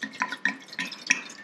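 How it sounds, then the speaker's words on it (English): Homemade apple scrap vinegar is poured into a cleaned glass jar, giving a close series of irregular drips and splashes, short liquid pulses in quick succession with no talk. "is pour this into our cleaned jar that we were using earlier"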